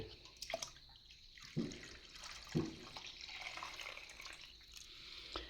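Water splashes and trickles into a container of beetroot for wine in a few uneven pours, fairly quiet with brief gurgles between.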